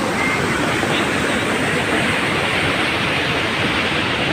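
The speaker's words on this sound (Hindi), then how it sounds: "ये मेन वाटरफॉल है नर्मदा नदी का," Dhuandhar waterfall on the Narmada river at Jabalpur roars in a loud, unbroken rush of heavy falling water, a dense steady wash with no pauses, heard close and alone.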